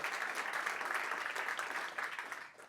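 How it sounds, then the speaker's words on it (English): An audience applauds after a keynote on technology and social accountability, a dense, even wash of clapping that holds steady and then starts to fade at the very end. "We give her another applause for that"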